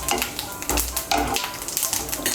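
Chopped onion added to hot oil for a mixed dal tarka, crackling and sizzling close up, with irregular taps and stirring clatter over a continuous hiss.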